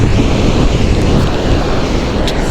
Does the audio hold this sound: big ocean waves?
yes